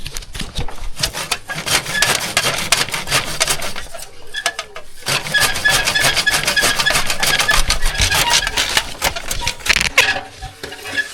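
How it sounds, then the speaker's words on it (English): Sawzall reciprocating saw cutting through an installed fitting, a dense, continuous rasping buzz with brief pauses and restarts, loud and close throughout. "You just want to get the sawzall in there?"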